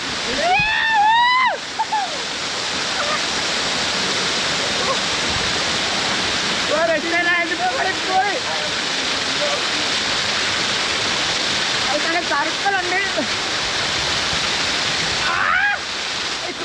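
A hidden waterfall pours steadily as a loud, continuous rush of water, with several brief voices and shouts rising over the roar.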